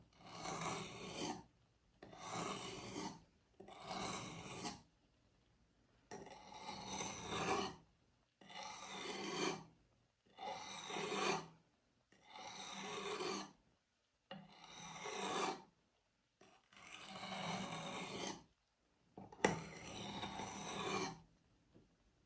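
A knife is drawn across a sharpening stone in about ten separate rasping strokes, each lasting a second or two with short pauses between. The strokes are quiet and close, with no voices.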